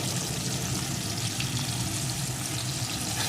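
Chopped tomato and green chilies fry with potatoes in a pan, giving a constant dense sizzle and bubbling hiss, close and steady for a few seconds with no talk.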